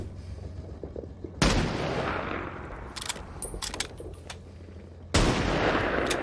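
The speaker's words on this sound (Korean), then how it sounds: "영화 라이언 일병 구하기에서 가장 기억에 남는 장면을 뽑으라면 바로 잭슨 일병의 저격 장면이 아닐까 싶은데요." Sniper rifle shots from the World War II film Saving Private Ryan: two loud, sharp gunshot blasts a few seconds apart, each followed by reverberating rumble and scattered distant cracks of battle.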